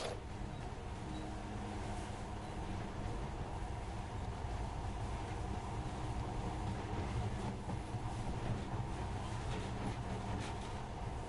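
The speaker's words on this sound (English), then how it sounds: "But now, this monorail seems magic, doesn't it?" Monorail train in Metro: Last Light Redux running with a steady, loud rumble and rolling clatter that holds evenly throughout, no voices over it.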